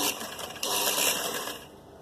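A sewing machine stitching folded fabric for a kameez: a close, steady mechanical whir that surges briefly in the middle and then settles lower, with no talking.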